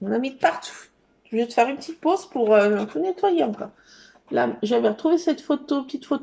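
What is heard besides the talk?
None of the usual background noises is heard.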